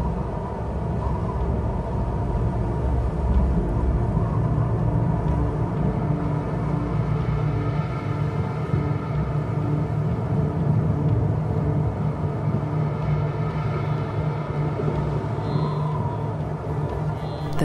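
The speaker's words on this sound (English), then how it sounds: "A storm approaches." Wind and a deep, distant rumble of an approaching storm over the African plains, a steady low roar holding evenly throughout with no voices.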